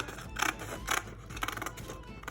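Scissors snip through a paper corset pattern at close range, a run of crisp, quiet cutting strokes in an uneven rhythm with no voices.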